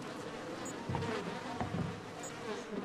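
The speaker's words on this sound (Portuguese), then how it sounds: "Cheio de moscas aqui." Flies buzz continuously around a corpse in the horror game Outlast 2, a steady insect drone layered over low ambient game rumble, with no speech.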